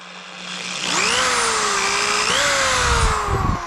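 A power drill spins up with a rising whine, holds a steady high-pitched drone, then shifts pitch as it bites into horn while making a powder horn, close and loud.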